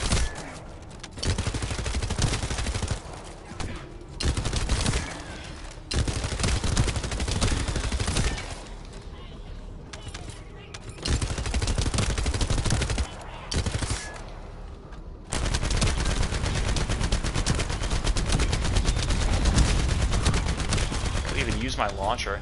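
Rapid automatic weapon fire from The First Descendant, a third-person looter shooter, rattles in long sustained bursts with brief gaps, loud and dense, with game effects layered underneath.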